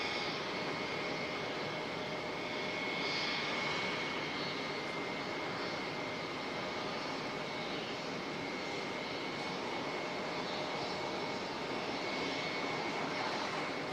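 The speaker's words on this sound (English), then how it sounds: "H. Adams ATR coming in" An ATR turboprop arriving at Auckland Airport from the Chatham Islands, its steady engine drone and propeller whine carrying a fixed high tone, moderately distant and continuous, with no talk.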